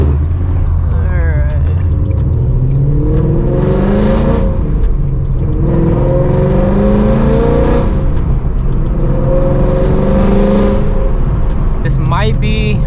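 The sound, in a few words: Ford Mustang GT engine running and revving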